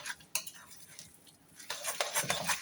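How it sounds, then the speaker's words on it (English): A spoon stirs a sweet feta curd tart filling in a bowl, scraping and clinking against the sides in uneven bursts, close and fairly loud. "we've got a spoon, so we might as well mix in"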